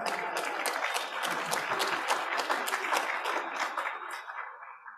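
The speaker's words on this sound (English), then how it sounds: "so we'll give him a round of applause." An audience at a hybrid meeting gives a round of applause for a birthday, sustained dense clapping for several seconds that fades out at the end.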